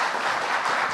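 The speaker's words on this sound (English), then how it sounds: "You're welcome to give a round of applause for our panelists" An audience applauds the panelists at a discussion on New York City's mom-and-pop small businesses, a dense, steady patter of clapping with no break.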